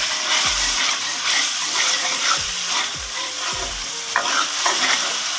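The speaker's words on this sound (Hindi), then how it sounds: "अब 1-2 मिनट के लिए हम इसको भून लेंगे ताकि मसाला सही तैयार हो जाए।" Masala for an aloo anda potato-and-egg curry fries loudly in a pan, a constant close sizzle with several distinct scraping stirs of a spoon spaced a second or so apart.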